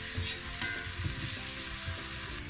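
Onions fry in oil with a pinch of salt, giving a steady, close crackling sizzle with a few soft stirring scrapes and no voices.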